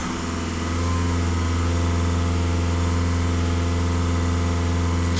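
A Skoda Octavia A5 engine with a diesel particulate filter, being cleaned for fault codes P0103 and P00C6, runs steadily at raised revs, giving a loud, even, continuous hum with no talk.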